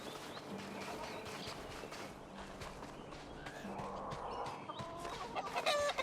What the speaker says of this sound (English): Rats are hunting these chicken.